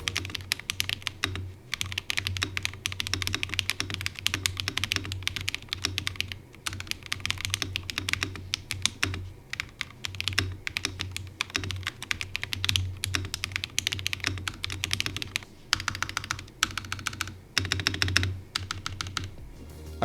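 Rapid, steady typing on a Redragon Dharma K740 Pro aluminum-alloy gasket-mount keyboard with linear switches, a dense run of close, crisp keystrokes with brief pauses and no talking.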